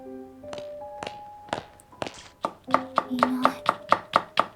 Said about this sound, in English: Sounds like somebody's chopping something.